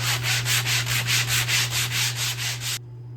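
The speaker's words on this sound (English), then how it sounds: "I'm just going to clean that up with one of these foam sanding brushes" Steady back-and-forth rubbing of a foam sanding block on wood, about a dozen even strokes close by, then it stops abruptly.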